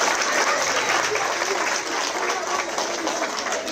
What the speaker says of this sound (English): Yeah, you can clap again, go ahead.